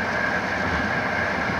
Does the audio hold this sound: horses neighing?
no